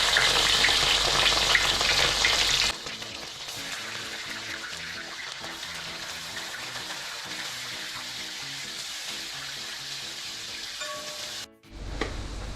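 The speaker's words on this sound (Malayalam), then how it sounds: "ചൂടായിരിക്കുന്ന ഓയിലിലേക്ക് നമ്മൾ ഈ പനീർ ഇട്ട് കൊടുക്കുകയാണ്" Paneer frying in hot sunflower oil gives a loud, dense sizzle at first, then settles into a quieter steady crackle with faint stirring scrapes and a brief clatter near the end, with no talking.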